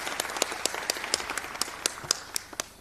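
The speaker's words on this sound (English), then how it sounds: "A round of applause for him." Audience applause at the 18th eLearning Africa conference in Tanzania, a thin spread of separate hand claps at an even rhythm, moderately loud and fairly close, with a faint murmur of talk underneath.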